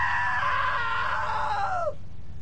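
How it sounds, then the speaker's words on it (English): A loud, sustained scream from the video game What Remains of Edith Finch rings out for about two seconds, wavering then sliding downward before cutting off abruptly, with no other voices. "Now that was a great scream."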